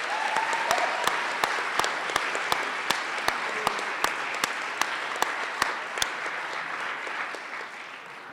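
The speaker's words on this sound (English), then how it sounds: "I'd like to give a round of applause for Matthew Steinberg." An audience at a cum laude ceremony claps steadily for about eight seconds, a dense even wash of hand claps with some sharper individual claps standing out, fading slightly at the end.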